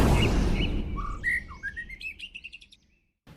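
A young oriental magpie-robin chirps in a run of bright, close tweets and whistled notes that quicken into a rapid trill before stopping, over a low background rumble.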